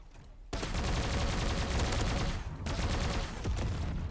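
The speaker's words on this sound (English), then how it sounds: "Combat mortar." A combat mortar fired in the robot battle game Bot Machines, producing loud crackling bursts of blasts in quick succession that continue with a brief dip before resuming, with no talk over them.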